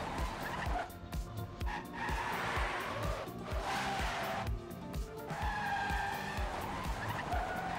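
Race car engines roar in a video game Trackmania-style match, with repeated tire skids and squeals as cars drift through turns, loud and continuous without talk.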